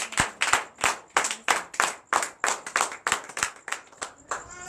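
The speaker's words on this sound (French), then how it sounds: "Donnez l'acclamation au Seigneur Jésus." A church congregation claps in rhythmic acclamation during a night deliverance and prophecy service, with about fourteen loud, evenly spaced claps and no talk over them.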